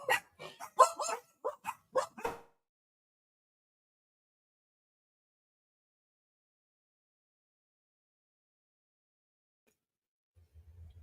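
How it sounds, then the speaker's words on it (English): Dog barking in a quick burst of about eight sharp barks over two seconds, then silence. "Dog's going crazy."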